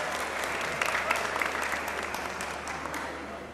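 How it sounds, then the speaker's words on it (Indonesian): Studio audience applause on an Indonesian talk show, a steady even spread of clapping from the crowd that continues throughout at moderate loudness. "Kita kasih tepuk tangan buat Ninin."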